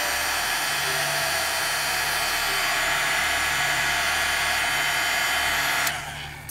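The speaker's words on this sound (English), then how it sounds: "We're going to bring in our heat tool again." A heat tool blows a steady, loud, hissing stream of hot air onto liquid applique on a wet stencil. It runs unbroken for about six seconds, then cuts off and fades.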